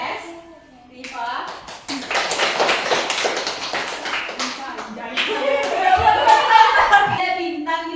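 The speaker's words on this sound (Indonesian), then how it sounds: "Tepuk tangan dulu" Audience applause at a school class event celebrating the top post-test scorer, with dense, sustained hand clapping that swells over several seconds, mixed with some voices.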